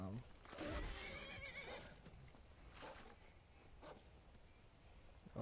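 In the video game Skyrim Special Edition, a horse whinnies sharply once near the start, followed by hoof clatter and scattered thumps, with a person talking quietly at times.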